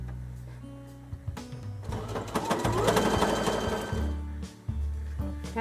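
Sewing machine stitching a fabric bowl, a fast rhythmic whirring run that starts in short bursts, builds into a steady buzzing stretch, then stops and restarts briefly, close and alone.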